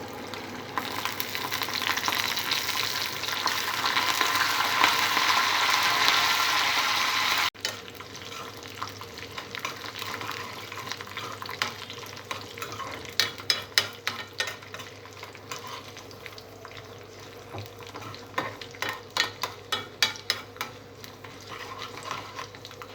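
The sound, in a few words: tempering spices frying in oil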